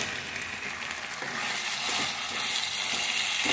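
Chilli chicken sizzles and fries steadily in a hot pan while being cooked for fried rice, a continuous close crackling hiss with faint stirring, no voices.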